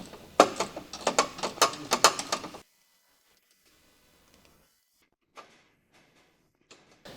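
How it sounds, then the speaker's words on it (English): A 12mm short socket on a quick wrench ratchets rapidly while tightening a stabilizer bar mounting bolt on a 2007 Honda CR-V, a close burst of clicks for about two seconds, then near silence with a few faint taps. "use a medium 12mm short socket with a medium quick wrench to tighten the stabilizer bar"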